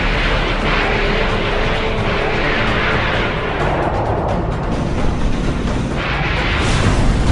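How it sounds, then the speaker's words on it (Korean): A missile launches from a South Korean Navy KDX-3 Aegis destroyer: a loud, continuous, roaring rush that fills the whole stretch, swelling slightly toward the end. "미사일 발사! 발사!"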